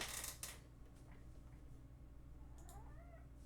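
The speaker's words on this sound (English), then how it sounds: "Kitty's outside." A cat meows outside, faint and distant, with a couple of short rising cries late on, heard after a brief knock near the start in a quiet room.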